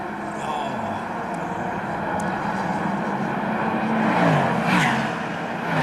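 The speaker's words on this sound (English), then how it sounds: "Daytona prototype sweeping through" Daytona prototype race cars sweeping past on the track at the Rolex 24, a loud continuous engine roar that swells and peaks near the end as the cars pass close by.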